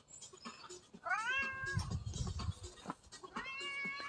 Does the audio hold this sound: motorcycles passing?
no